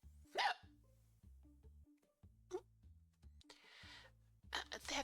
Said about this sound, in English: I totally didn't hiccup.